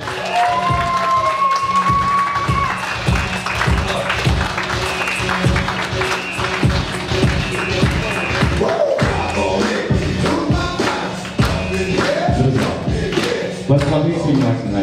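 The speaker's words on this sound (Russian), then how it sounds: "Денис, ваши аплодисменты!" Wedding guests applaud loudly and steadily in a hall as a groom is welcomed at a civil ceremony with a priest, dense clapping with some cheering over music throughout.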